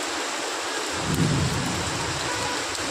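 Heavy rain falls in a dense, loud, steady roar, and a low rumble of thunder swells in after about a second and lingers beneath the downpour. No voices are heard.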